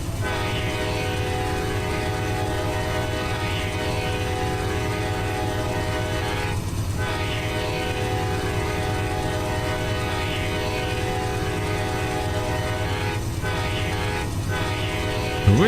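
Amtrak P053 Auto Train rolling steadily past near Jesup, Georgia, with a loud continuous horn over the rumble and clatter of railcars, a few short gaps in the blast.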